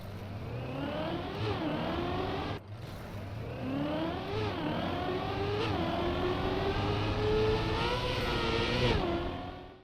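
A Trackmania video-game car engine plays in a replay, a loud, continuous synthetic whine rising and dropping through repeated gear shifts, with a short dip partway through and no talk.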